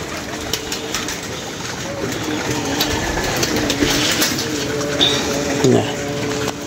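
Pigeons coo and call close by at night amid a rustling, busy background, with people talking over and around the birds.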